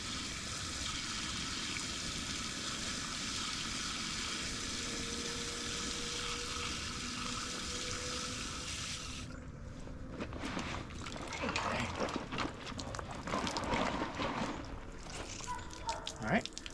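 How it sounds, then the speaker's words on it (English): Water pours and hisses steadily for several seconds as scuba dive gear is filled with water, then stops, followed by knocking and handling noises. "I'm just holding this up while I'm filling it with water."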